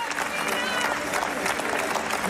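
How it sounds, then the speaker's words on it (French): An audience at a film screening in Venice applauds, a dense, sustained clatter of many hands clapping with a few voices mixed in, loud and continuous. "De longues minutes d'applaudissements"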